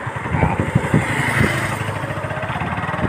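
A motorcycle on a long road ride rumbles with a steady mid-pitched engine drone and wind buffeting, fairly close and continuous without clear speech.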